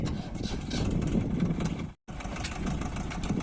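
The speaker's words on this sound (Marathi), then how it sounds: "आपण काका चालू करते ट्रॅक्टर" A tractor engine runs steadily nearby, a continuous mid-pitched rumble that cuts out briefly for a moment before carrying on at the same level, with no voices.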